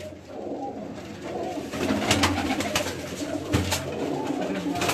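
Pigeons coo repeatedly close by, soft throaty calls over a low murmur, with wing flaps and faint clatter breaking in now and then.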